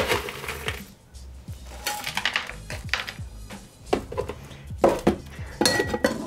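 Ice cubes clatter and clink into mint julep and Cynar julep cocktail glasses in a run of sharp, bright knocks and rattles, some louder bursts near the end, close and with no talking.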